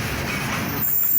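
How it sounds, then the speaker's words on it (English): A long CSX freight train with tanker cars rolls past a station in a loud, steady rumble of wheels and rail noise with some squeal, close by and continuous. "He's got like a lot of tankers on this train. And this is a long train."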